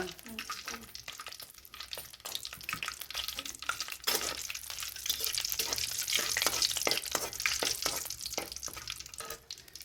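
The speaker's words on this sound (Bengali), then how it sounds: "ফোড়নে দিব দুটো তেজপাতা, দুটো শুকনো লঙ্কা" Two bay leaves and two dried red chillies tempering in hot oil for a mutton curry, a loud, continuous crackling sizzle with rapid pops and occasional stirring scrapes, close up.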